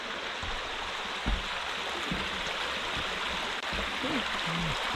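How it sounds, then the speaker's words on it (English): Indian Creek on a trail at Giant City State Park flows in a steady, close broadband rush of moving water that runs the whole time, with faint low thumps and brief voice-like sounds underneath. "one good thing about this trail, it has a pretty creek."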